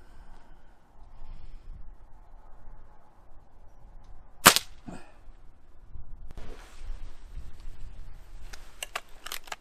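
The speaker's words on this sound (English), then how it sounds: "33-year-old air rifle, okay? Using the JBS exact pellet here." A 33-year-old Diana RWS Model 36 air rifle fires a JBS Exact pellet outdoors in wind: one sharp, loud crack that fades quickly, with faint handling clicks and rustle before and after it.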